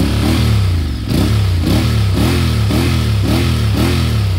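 A Honda CBR650R motorcycle fitted with a new aftermarket exhaust revs hard and close, about six sharp throttle blips rising and falling in a steady rhythm over a loud idle.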